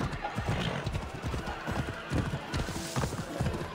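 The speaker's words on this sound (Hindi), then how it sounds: "आजा मेरे घोड़े." A horse trots in the Assassin's Creed Odyssey video game, its clip-clop hoofbeats steady and rhythmic, close and fairly loud, with a brief whinny mixed in.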